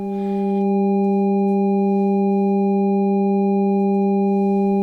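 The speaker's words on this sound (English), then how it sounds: "take one of them from a self-oscillating filter from the left channel of Freak" A self-oscillating filter on an Arturia MicroFreak synth produces a pure sine tone with a few stacked steady partials, fading in quickly and then holding loud and unchanging without any voices.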